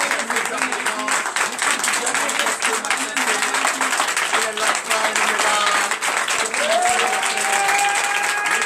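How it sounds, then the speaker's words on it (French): A large church congregation applauds steadily throughout, dense continuous clapping with a voice rising above it near the end. "Donnez encore plus d'acclamation à notre Seigneur."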